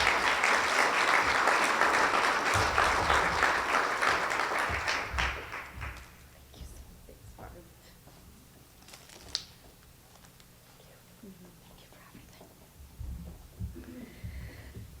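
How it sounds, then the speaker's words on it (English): Audience applause at a chamber of commerce member appreciation luncheon, a loud round of clapping that fills the first six seconds, then tapers off into quiet room noise with scattered faint sounds. "Let's give a round of applause to Amber."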